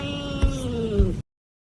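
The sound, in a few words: cat meowing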